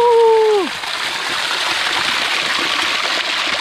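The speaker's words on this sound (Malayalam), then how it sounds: "അതിനോട് ചേർന്ന് തന്നെ ഒരു കുട്ടി വെള്ളച്ചാട്ടവും ബ്യൂട്ടി" A small waterfall on a mountain trek rushes in a steady, broad wash of falling water, continuous and fairly loud, after a brief descending tonal sound at the very start.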